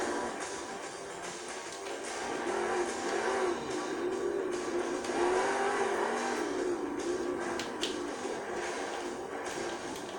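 Monster truck freestyling in a Monster Jam video game: a continuous loud engine roar that swells and falls with revving, plus occasional clatter and bumps, no speech.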